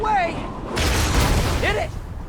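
Booms and blasts of launched targets exploding in Marvel's Spider-Man, a sustained rumbling burst under game character voices, with whooshing sweeps at start and end.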